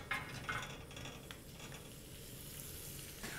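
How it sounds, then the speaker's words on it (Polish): Sausage drops into a little oil in a hot frying pan and gives off a quiet, steady sizzle with a few faint clinks near the start. "Na rozgrzaną patelnię wleję troszeczkę oleju. I tak przygotowaną kiełbasę wrzucę od razu na patelnię."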